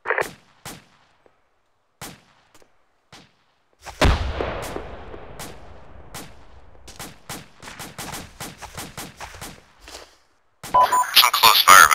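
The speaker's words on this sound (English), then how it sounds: "Some close fire, but I don't see what they're shooting at." Gunfire in the military game Arma: scattered sharp single shots across the clip, one louder close burst with a long echoing decay, then a dense rapid volley near the end.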